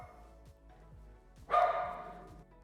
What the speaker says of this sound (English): he'll be barking outside